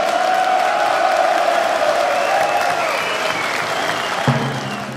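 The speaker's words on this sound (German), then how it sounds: "Und dafür Applaus." A studio audience bursts into steady, loud applause mixed with crowd noise and a few whoops, sustained throughout without speech.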